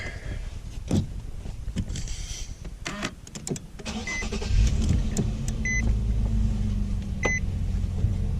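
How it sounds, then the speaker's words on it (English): An Infiniti FX35 starts up with clicks and relay sounds, then a steady low engine hum sets in, with a couple of short electronic beeps near the end. "I'm going to turn on the car."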